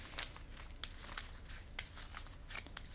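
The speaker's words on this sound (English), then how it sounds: "I'm just going to shuffle up the cards and make a deck of 9." Skytear Horde game cards being shuffled into a deck, giving a soft, steady papery riffle with brief crisp snaps, close and quiet with no talk.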